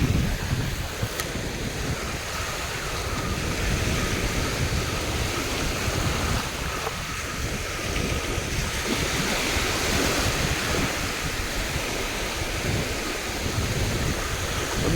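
A rough, choppy sea pounds continuously at close range, with a loud, steady wash of breaking waves and a windy roar and no pauses.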